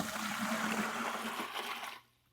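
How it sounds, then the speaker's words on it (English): Warm water, a full gallon, pours steadily into a bucket in a continuous broadband gush that runs for about two seconds and then stops abruptly, close and alone with no talk. "we got to put our gallon of warm water in our bucket"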